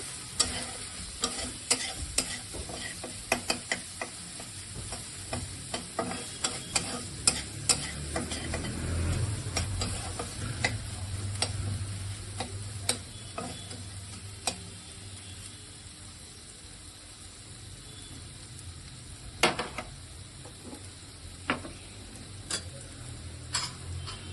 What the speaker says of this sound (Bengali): ভালো করে মশলাটা আমি ভেজে নেবো। পেঁয়াজটাও, এটা কাটা পেঁয়াজ, ওটা একটু লাল লাল করে ভাজা হবে।